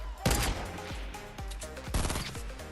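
Scar assault rifle gunfire in Fortnite, several loud, rapid bursts of shots in quick succession with echoing tails, close and dominant.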